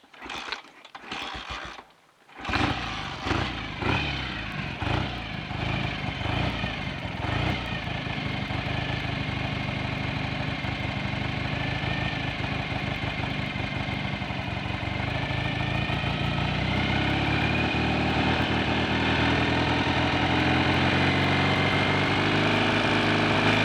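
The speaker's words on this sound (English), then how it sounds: "I'll just start it up again now. It's only been stopped for a couple of minutes." A BSA A65 motorcycle engine cranks over with a few stuttering turns, catches, then settles into a steady, fairly loud idle close by that continues to the end without any talk.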